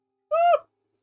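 A single short voiced hoot imitating a little wooden toy bird's alarm call, a clear tonal note lasting about a third of a second, alone in silence.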